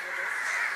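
Hundreds of crows in Sri Lanka caw together in a dense, loud, continuous chorus of overlapping calls heard up close.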